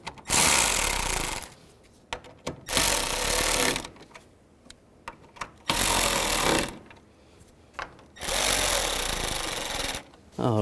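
A power tool whirs in four loud bursts of a few seconds each while driving screws into the wiring harness hold-downs of a 2011-2014 Chrysler 200, with quiet gaps between them.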